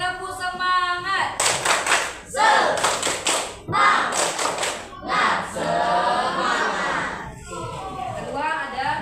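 A school class repeats a rhythmic spirit clap: several sets of loud, patterned group claps with children's voices chanting along, framed by a teacher speaking at the start and finish.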